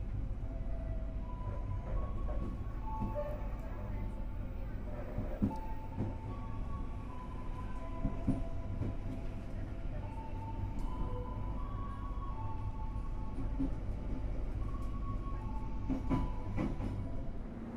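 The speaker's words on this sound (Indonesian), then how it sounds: "Itu lagi ada kereta Bengawan nampaknya." A Bengawan passenger train running on the rails, heard from aboard another moving train as a steady low rumble with faint clicking from the track and occasional squeals, continuous and moderately quiet.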